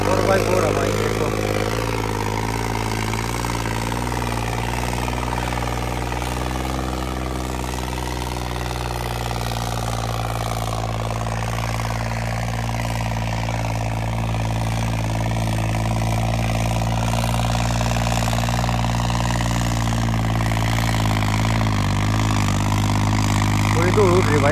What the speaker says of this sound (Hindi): लो भाई ट्रैक्टर बीच में बंद हो गया, चलता चलता अब दोबारा स्टार्ट किया है